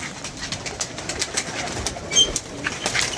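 Pigeons newly delivered from Faisalabad coo softly and repeatedly at close range, with scattered rustling and light movement noises around them and no talk.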